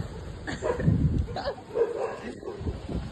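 Dogs bark and yip in short bursts while chasing people outdoors, fairly close, mixed with voices nearby.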